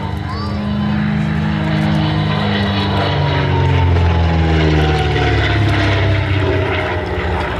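A de Havilland Comet propeller aircraft with Gipsy Six R engines flies past at an air display at Duxford, its engine drone rising and falling in pitch as it passes, loud and close.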